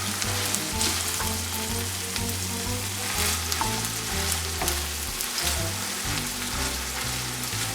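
Ground beef frying and being stirred in a pan for sloppy joes, a steady close sizzle with scraping spoon strokes and low rhythmic knocks throughout.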